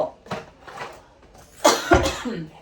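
A few short coughs, close by, in quick bursts with a louder pair near the end.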